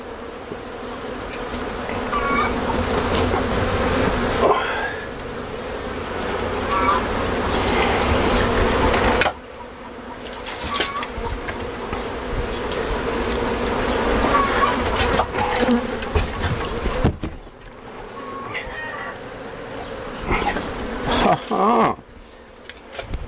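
Bees buzz loudly and continuously during a hive removal inside a shed, a dense droning hum with brief dips and some faint background talk.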